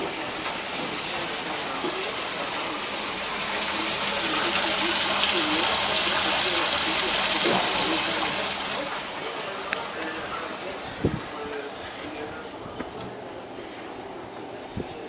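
Maple sap pumps through a line into a sugar shack at the end of winter, a broad rushing gush that swells louder midway, then settles. Scattered knocks and clicks sound near the end.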